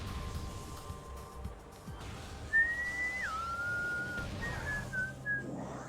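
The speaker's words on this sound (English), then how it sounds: "I shouldn't be whistling on stream" A person whistles a short wavering tune during a Metroid Prime game stream, the clear pitched line rising, dipping and sliding over a busy game soundscape of rumbles and effects, with no speech.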